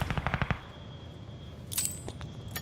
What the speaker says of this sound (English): Getting shot in the back and the front.